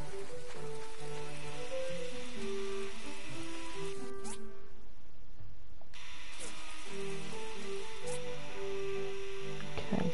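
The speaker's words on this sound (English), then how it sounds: "It's raining again." Rain falls in the farming game My Time At Portia, a steady patter beneath a melodic game music loop that briefly drops out midway.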